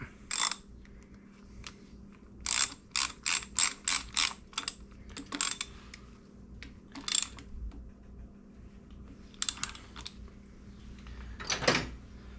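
A ratchet wrench tightening a bolt on a Harley-Davidson Sportster motorcycle during charging system work, quick clicking runs of pawl ticks in several short bursts with pauses between, close and fairly quiet over a low hum.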